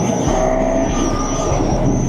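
A Honda CB1000 Hornet motorcycle is ridden on the road: a loud, steady engine drone and wind rush, close to the microphone, with a faint high whine running throughout and no pauses.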